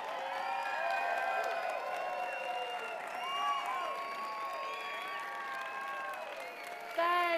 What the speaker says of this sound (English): please give a round of applause one more time for our wonderful cast